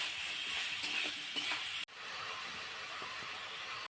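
Dumba (sheep tail fat) pieces fry in a hot pan, giving a continuous bright sizzle with stirring scrapes, close and steady, briefly cut off twice.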